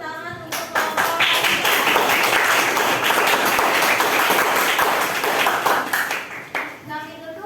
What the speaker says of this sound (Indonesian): selamat tepuk tangan untuk kelompok.